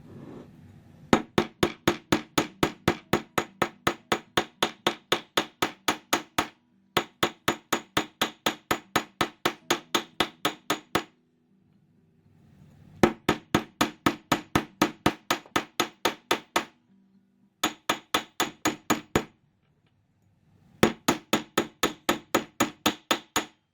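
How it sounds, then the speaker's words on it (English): Rapid hammer blows flattening a wire jewelry piece, loud sharp metallic taps in quick regular bursts of about a dozen strikes, separated by short pauses. "Now I'm going to take this and I'm going to hammer the entire piece."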